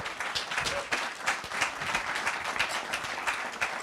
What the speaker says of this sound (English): let's just get a big round of applause